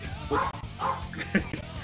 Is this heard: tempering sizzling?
no